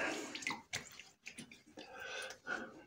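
Water splashing in bursts as a face is washed before a shave with a Merkur 34 G HD razor, close and irregular with dripping in between.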